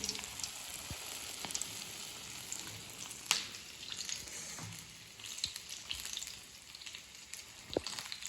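Batter-coated urad dal bajji fritters fry in oil over a low flame, a soft, even bubbling sizzle with scattered crackles and occasional sharp pops, close and fairly quiet.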